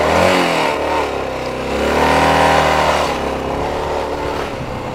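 Motorcycle engines rev loudly and close by, pitch swelling and sliding as riders pull away, with a continuous throaty drone throughout.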